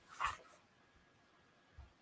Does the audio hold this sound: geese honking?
no